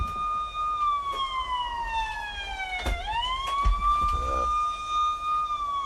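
A loud siren wails steadily, its pitch dipping sharply and rising again midway, over a low rumble of traffic.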